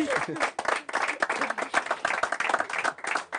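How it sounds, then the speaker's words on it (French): Lively applause and individual hand claps from a stage show audience as a young woman is called up, brisk and close, with a voice briefly heard at the start. "Sous les applaudissements"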